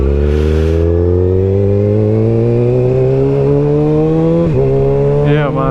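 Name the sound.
Kawasaki ZX7 motorcycle engine running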